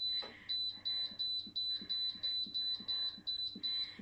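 An electronic kitchen appliance beeps repeatedly in a steady, evenly spaced series of short, high-pitched tones, about ten in a row, fairly quiet with no talking.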